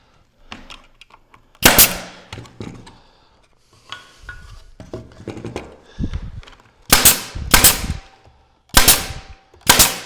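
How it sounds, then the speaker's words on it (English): A staple gun drives 1-inch staples into picket material while a garden wall is built: a string of sharp, loud snaps and clacks, some in quick pairs, separated by short pauses and softer handling noises. "This is a 1-inch staple that I'm now going to be using to staple"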